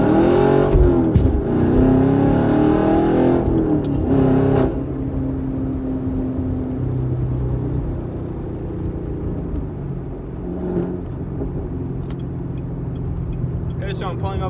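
A manual Camaro's engine revs and drops back in pitch during automatic rev-matched downshifts, heard from inside the cabin, with a person talking over it.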